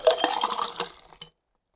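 Shaken rum cocktail with ice dumped from a shaker into a glass, a close, loud rush of clinking ice and liquid lasting about a second, then a final brief clink before silence.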